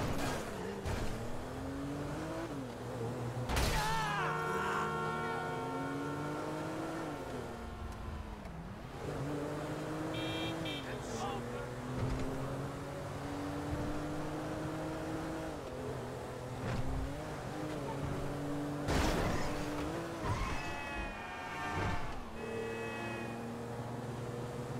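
Car engine in GTA 5 driving and revving, steady engine drone with rising and falling pitch and a few sharp impacts, no talking.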